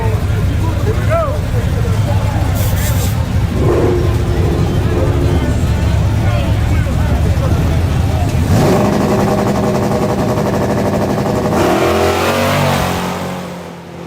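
A junkyard-built Studebaker drag car tears down the Yello Belly Dragstrip on a fast pass, its loud engine roar sweeping up through gear changes amid crowd noise and people talking nearby.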